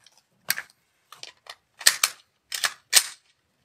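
About six sharp gunshots ring out at a shooting range, spaced irregularly over a few seconds. They sound moderately loud, each a crisp crack with a short tail and quiet between them.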